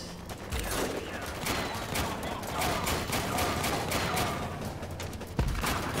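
Gunfire and artillery in the war strategy game Warpips, a steady dense crackle of volleys with a sharp louder shot near the end, with a voice speaking occasionally over it.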